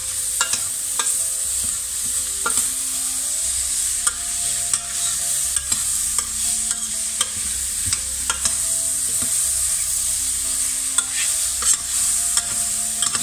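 Honey-glazed vegetables frying in a pan, a constant bright sizzle broken by regular clacks and scrapes of a utensil stirring them against the bottom, close and loud, with no talking.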